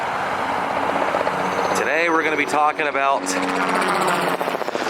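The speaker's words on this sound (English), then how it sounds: "that was really loud. Little helicopter." A small helicopter passes low overhead along Highway 192 with a loud, steady roar and a rhythmic rotor chop, while someone talks over the noise.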